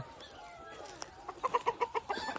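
Desi village chickens on a poultry farm in Shahapur cluck in a quick run of short, bright calls, rising toward the end with overlapping hens close by, over faint background murmur.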